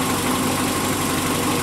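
A Renault Twingo engine idles steadily while warming up during a coolant drain job, a continuous even mechanical hum with a faint regular pulse and no talking.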